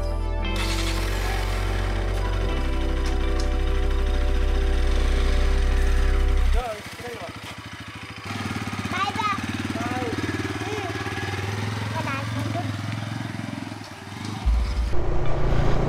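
A motorcycle engine runs steadily at the start of a bike trip to Chikmagalur, loud and close, then drops to a lower rumble with chirping and other background sounds.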